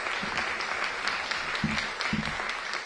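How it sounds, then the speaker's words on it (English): An audience at a ribbon cutting for the Studio Theatre's Victor Shargai Theatre applauds, a dense continuous wash of many hands clapping at moderate volume with a few louder claps standing out. "Give them a big round of applause."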